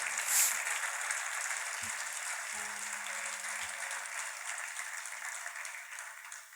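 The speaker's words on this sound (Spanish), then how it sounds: "Denle aplauso al Señor." Congregation applause at a church sermon, a steady wash of clapping from a crowd that holds throughout at moderate level with no talking over it.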